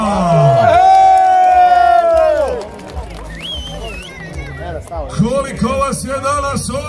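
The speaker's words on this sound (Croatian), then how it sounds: "Da čujem navijače Zisa!" Fans at a bullfighting event in Drinić cheer and shout in a loud, sustained roar with whoops and long raised voices, easing off midway before rising again into scattered shouting.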